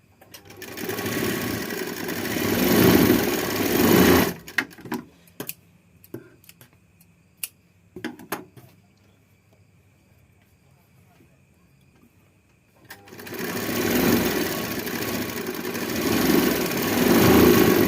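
A sewing machine stitches a blouse in two loud, close bursts of rapid needle strokes, separated by a quiet pause with a few faint clicks and handling sounds.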